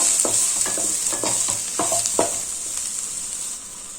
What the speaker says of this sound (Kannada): ಚಕ್ಕೆ ಮೆಣಸನ್ನು ಹಾಕ್ಕೊಳ್ತಾ ಇದ್ದೀವಿ ಇದನ್ನು ಒಂದೆರಡು ನಿಮಿಷಗಳ ಕಾಲ ಫ್ರೈ ಮಾಡ್ಕೊಳ್ಬೇಕಾಗುತ್ತೆ